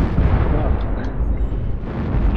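An incoming missile strike in the giant-robot combat game MechWarrior Online lands as a loud, sustained low-pitched roar of blasts and rumbling impacts with no clear breaks, and no voices over it.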